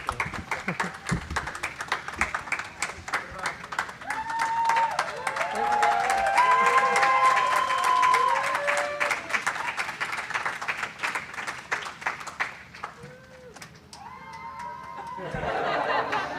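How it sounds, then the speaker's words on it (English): A crowd applauds as the CHAPEA Mission 1 analog astronaut crew enters the mock Mars habitat, sustained clapping with some cheers and laughter, swelling mid-way and easing toward the end, with faint voices underneath. "Please join me in a round of applause as we wish our crew well"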